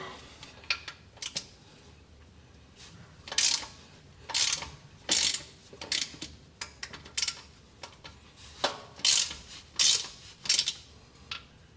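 A 10 mm ratchet clicks as it loosens the bottom differential cover bolts on a Ford Bronco with an M220 rear diff, in close repeated bursts of rapid pawl clicking separated by short pauses.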